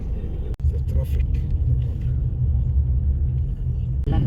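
Road traffic heard while driving in Dubai, a steady low engine and tire rumble from inside the car, with a brief thump early on and faint voices in the background.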